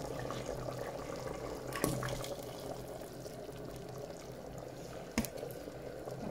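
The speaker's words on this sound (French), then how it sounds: "Là, vous voyez, je rince le verre." Water runs and splashes while a blender glass is rinsed during vegetable harira prep, a steady close wash with two sharper knocks of glass along the way.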